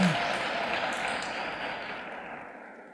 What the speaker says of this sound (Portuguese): Pode aplaudir o Senhor mesmo, não a mim.